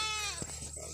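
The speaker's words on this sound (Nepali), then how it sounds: "यहाँ बाख्रा हेर्न सक्नुहुन्छ" Goats bleat in a short, close burst with a wavering nasal cry, a voice faintly audible underneath.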